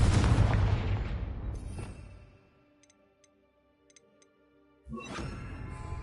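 A Confringo fire spell from the video game Hogwarts Legacy detonates with a loud, rumbling explosive blast that fades into quiet game ambience with faint ticks, before another burst erupts at the end.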